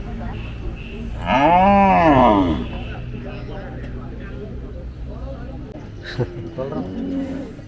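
A cow moos once, loud and close, at a cattle market, a long drawn-out call over the crowd's murmur, with people talking nearby.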